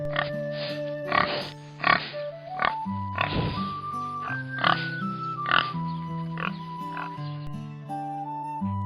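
A cartoon farm pig gives a run of short, tonal oinks and grunts over a bright musical backing, the calls coming in quick irregular bursts.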